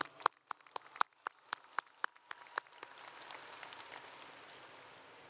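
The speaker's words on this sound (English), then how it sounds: "Let's give them a round of applause." At a Bowie High School graduation, a few sharp, evenly spaced claps ring out near the microphone before a wider round of applause from the audience swells softly behind them and carries on.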